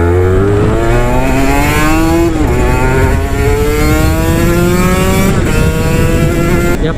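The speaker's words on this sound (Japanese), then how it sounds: "神の排気音だよね" A Honda NSR250R two-stroke motorcycle exhaust wails loudly while riding, climbing steadily in pitch through the gears with brief dips at the shifts, close and continuous.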